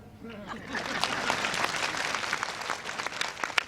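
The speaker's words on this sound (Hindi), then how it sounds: "अरे ताली बजाओ भैया" Rally crowd at a public meeting in Indore claps, a rising swell of applause with scattered sharp claps, under a voice talking over it.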